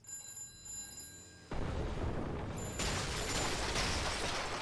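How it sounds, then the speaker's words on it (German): An old-style telephone bell rings in the video game Slaps & Beans 2, a brief bright ringing that cuts off abruptly and gives way to a loud, noisy burst of game action. "das Telefon hat aufgehört zu klingeln"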